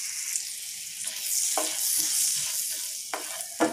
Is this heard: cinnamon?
yes